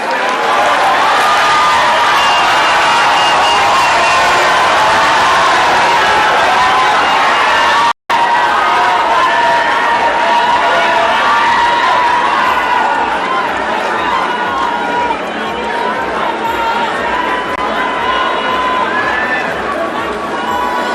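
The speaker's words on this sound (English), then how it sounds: "Another round of applause, please, for the former Prime Minister, Right Honorable Raila Odinga" A large conference crowd applauds and cheers for former Kenyan Prime Minister Raila Odinga at the 2023 Devolution Conference, a loud and steady roar of clapping and voices that holds for the whole stretch.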